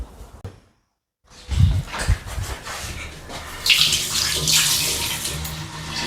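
After a brief silence, a tap opens and water runs steadily into a sink for handwashing, splashing and gurgling close by as hands move under the flow.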